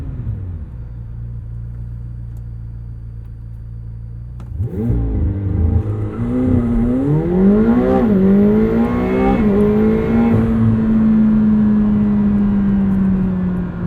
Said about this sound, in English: Let's try a launch controlled start.